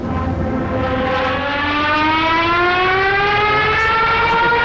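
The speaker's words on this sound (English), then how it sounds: "I'm referring to the Jericho trumpet or the Stuka siren." A Stuka dive bomber's Jericho trumpet siren wails loudly, rising steadily in pitch, sustained and harmonically rich like a diving aircraft's screaming whistle, with no talking.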